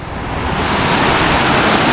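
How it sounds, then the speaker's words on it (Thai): Water rushing down from the Ta Sanam waterfall in Laos makes a loud, dense, continuous roar that stays even for the whole short stretch, with no voices over it. "น้ำไหลมาจากน้ำตกตาสนามครับ"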